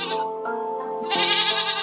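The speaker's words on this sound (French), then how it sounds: "des chèvres" Goats bleating in a farm setting, a couple of close, loud, wavering calls back to back with no talking.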